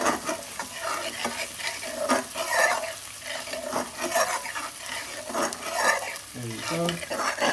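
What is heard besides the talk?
garlic frying in ghee on medium-high heat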